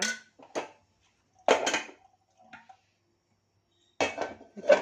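A metal kadai set down on a home kitchen stove while cooking chickpea masala curry: a few separate clanks and clatters of metal, with short silences between them.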